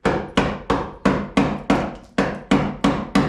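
A hammer drives a wood chisel against a rusty RC car body in about ten sharp, evenly spaced metallic strikes, each ringing briefly before the next, close and loud with no talking.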